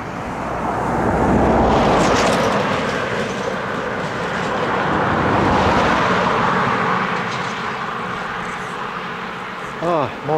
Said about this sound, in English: Ah, more trucks.